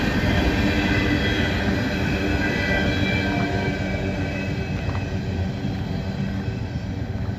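Freight train rolling through Abbeville, South Carolina, a loud, close, continuous rumble of wheels and rail cars with faint squeals and clanks riding over the steady roar.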